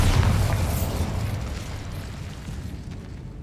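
A Bombarda blasting spell explosion in the Hogwarts Legacy video game opens with a loud, broad blast that rumbles and slowly fades over a few seconds, with no talking.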